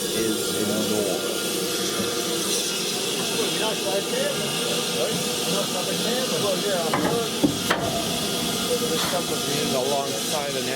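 Steady, loud hiss of the steam locomotive Camelot on the Bluebell Railway, continuous and close throughout, with a few brief clanks and sharp bursts near the end and faint voices underneath.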